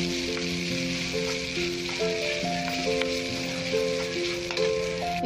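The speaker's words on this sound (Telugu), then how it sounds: "బాగా ఫ్రై చేయండి." Broken red wheat fries in a generous amount of ghee, giving a continuous even sizzle and occasional stirring clicks under background music.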